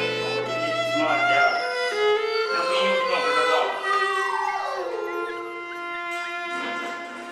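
Dogs howling together, long rising and falling wails layered over each other, loud and close.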